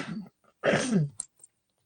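A single short, throaty cough from a woman, close and fairly loud, with quieter breathy sounds before it and brief small noises after.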